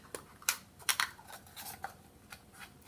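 Scissors snipping through a plastic cup for a craft project, a string of sharp, close crisp cuts in an irregular rhythm, with no talking.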